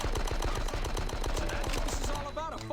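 Rapid, loud gunfire from the Die Hard: Nakatomi Plaza first-person shooter, with rhythmic bursts like an automatic weapon firing steadily throughout, plus some game effects toward the end.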